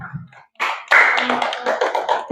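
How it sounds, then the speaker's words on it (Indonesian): Pupils in an elementary-school classroom give a short burst of hand clapping, a quick run of close, sharp claps lasting about two seconds. "tepuk tangan untuk Nizar"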